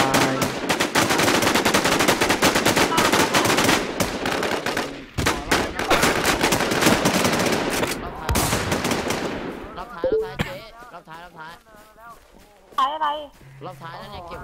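Heavy automatic gunfire in the video game Infestation dominates the first ten seconds, loud and sustained with short gaps, then gives way to excited talk with a few scattered shots.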